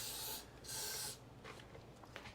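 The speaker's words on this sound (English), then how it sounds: "let's spray some fogging oil in it" Fogging oil is sprayed into a Honda engine in two short, close hissing bursts. Softer rubbing and handling noises follow.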